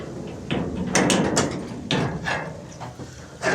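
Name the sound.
spring door on a pig pen being opened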